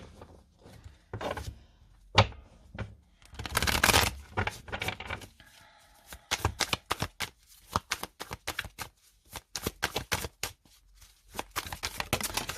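Tarot cards shuffled by hand in a series of crisp, riffling bursts with short pauses between, close and fairly loud, with no talking.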